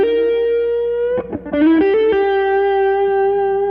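A sustained, effects-laden electric blues guitar note rings out, bends and slides, then a few quick notes walk down the scale before settling on a long, steady tone.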